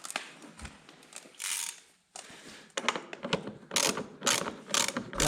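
A ratchet tightens the lock nut on a wheel bearing of a lawn mower, clicking close and loud in quick bursts of rapid pawl clicks separated by short pauses, with one brief silence partway through.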